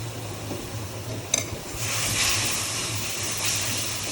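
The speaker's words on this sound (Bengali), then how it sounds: "এটাকে ভালোভাবে কষিয়ে নেব" Spice masala of cumin and coriander powder frying in oil for a snakehead fish curry, a dense continuous sizzle with a sharp clink of a spoon against the pan and scraping as it is stirred.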